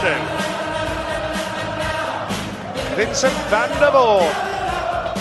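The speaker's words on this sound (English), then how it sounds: "The crowd are loving it." A darts crowd at the PDC World Championship cheers and sings for Vincent van der Voort, a loud, sustained roar with rising whoops and chanting, while a commentator talks over it.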